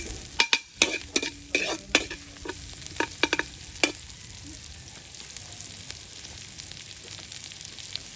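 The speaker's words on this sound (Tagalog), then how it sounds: "Nagisa na po tayo ng luya, bawang." Ginger and garlic sauté in a hot pan for sinigang, a steady close sizzle broken by sharp metallic clinks and scrapes of a stirring utensil, busy at first, then settling into continuous frying.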